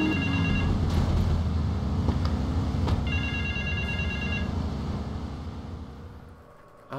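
A payphone rings in GTA Vice City, its repeated electronic trill pulsing in two bursts over a steady engine-like game ambience that fades toward the end.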